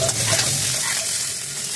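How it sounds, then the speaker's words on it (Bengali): Potatoes seasoned with salt and turmeric fry in hot oil in a wok, a loud continuous sizzle with stirring scrapes throughout, close and unaccompanied by speech. "খুব লাল লাল করে আলুটা ভাজতে হবে।"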